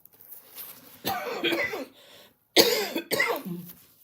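Several harsh, close coughs from a lingering cough after illness, in two bursts separated by a short pause, with a quiet breath before them.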